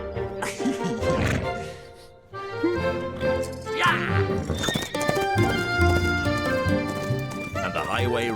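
A cartoon horse ridden by the Highway Rat whinnies and trots with clip-clop hooves, all under a musical score, with a voice speaking over it.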